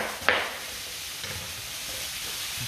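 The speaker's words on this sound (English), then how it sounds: "Now that sizzling is happening now, which is great" Soup ingredients sizzle and spit in a hot pan while making mulligatawny, a steady soft frying hiss with a brief louder burst near the start as something is stirred or added.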